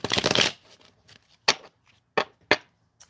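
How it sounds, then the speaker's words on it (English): Tarot cards being shuffled: one quick riffling burst up close, followed by several sharp isolated snaps and taps as the deck is squared and cards are handled. "One more shuffle."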